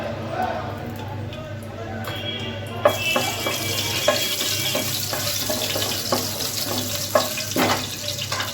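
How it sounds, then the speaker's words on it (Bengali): Bay leaves and dried red chillies temper in hot oil for a bottle gourd and fish head dish, giving a steady sizzle. Occasional sharp clicks of utensils rise over the hiss. "এর মধ্যে আমি তেজপাতা শুকনো লঙ্কা ফোড়ন দেবো।"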